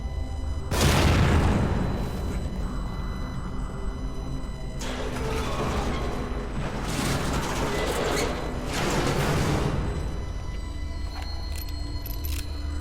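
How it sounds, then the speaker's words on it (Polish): A sudden loud bomb explosion in the video game The Evil Within bursts out, followed by rumbling blasts and crackling debris, with two more heavy explosive surges later. "Ale ja to otworzę, to bomba wybuchnie."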